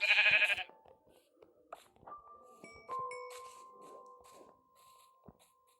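Sheep bleating in the Minecraft video game, a short sharp bleat at the start followed by sparse game clicks, dings and soft tones, with no talking.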